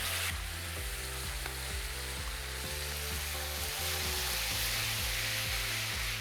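Chopped onion frying in a pan, a steady sizzling hiss with a low rhythmic knocking underneath, continuous and close with no voices.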